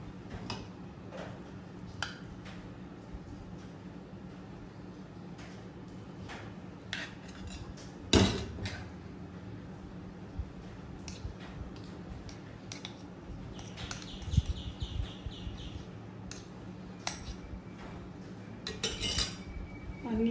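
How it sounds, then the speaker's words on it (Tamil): A spoon works through tomato kodo millet upma in a pan. Soft, sparse scrapes and clinks are spaced out over a quiet background, with one sharper metallic knock partway through. Nobody speaks. "நல்லா கிண்டிட்டு"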